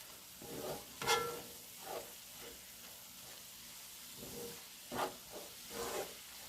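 Ground beef with taco seasoning sizzles softly in a frying pan while a utensil stirs it, making intermittent scraping swishes over a quiet frying hiss.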